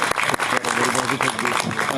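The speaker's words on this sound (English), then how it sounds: "A big round of applause for our panelists" Applause from an audience for the panelists at an entrepreneurship talk, dense continuous clapping filling the whole two seconds with a few brief dips.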